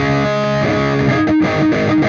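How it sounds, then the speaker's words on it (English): Overdriven electric guitar from the Audiosingularity Neurontube Tangie amp sim plugin, a short loud stretch of gritty sustained notes and chord changes, playing without pause and without speech. "We have overdrive, which is slightly less aggressive distortion."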